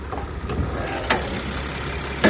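A Mercedes-Benz Sprinter van engine idles steadily with a low, even rumble, punctuated by a couple of brief sharp clicks.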